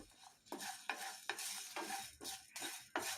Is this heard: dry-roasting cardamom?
yes